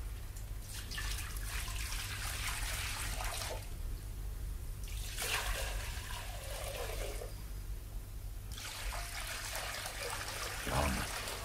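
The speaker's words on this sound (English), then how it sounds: "The 6 great water pots there. Fill them up with water." Water is poured into six large water pots in three long, steady gushing bursts separated by quieter pauses. A low constant hum runs underneath, and there is no talking.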